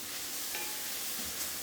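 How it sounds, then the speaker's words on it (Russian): Tomato paste squeezed from a tube fries in a pan for borscht, giving a steady, close sizzle with faint stirring scrapes throughout and no talk. "Вот, обжариваем."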